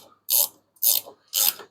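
Three crisp bursts of ratchet clicking come from close by as bolts are tightened on the wing of a Plymouth Duster, each burst lasting about a third of a second with short silent gaps between them.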